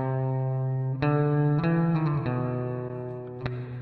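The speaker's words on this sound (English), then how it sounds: "I prefer the sound of having the reverb after." Sustained electric guitar chords through an amp modeler with reverb placed after it, a distorted, amp-like tone, each new strum ringing out into a wash of reverb.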